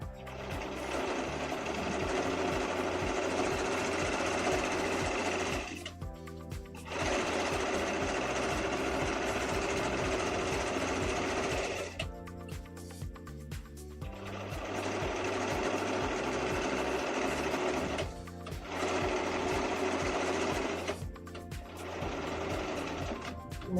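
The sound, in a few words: sewing machine with cording foot gathering fabric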